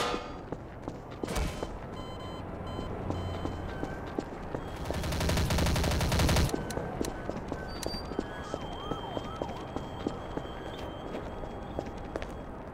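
Enemies fire on the player in a video game: rapid, scattered gunshots crackle throughout, with a denser, louder burst of fire in the middle and sharp individual shots afterward, mixed with game ambience.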